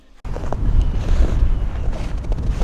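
Cold winter wind gusts steadily against the microphone outdoors near a tent at about 28 degrees, a loud continuous roaring buffet with no voices.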